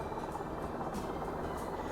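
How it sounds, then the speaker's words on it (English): A helicopter flies overhead at a golf course, producing a steady, loud rotor and engine drone that fills the whole stretch without pause. "Helicopter's pretty loud here in person."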